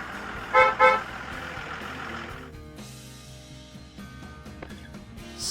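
A bus horn gives two short loud honks, followed by a low idling engine rumble.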